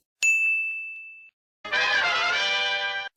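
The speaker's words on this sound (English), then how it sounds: "Hopefully you know what that sound means. A twist from TJ" A bright electronic ding rings out alone and decays, followed after a short silence by a sustained chiming tone, the twist announcement sound from The Challenge TV show.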